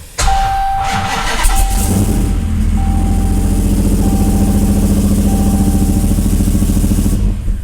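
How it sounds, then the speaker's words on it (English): A 1968 Dodge Charger with a Hellcat engine swap cranks and fires, then settles into a loud, steady, rumbling idle close by, with a repeating high beep sounding through the first several seconds. "once we put our foot on the brake, then she'll start"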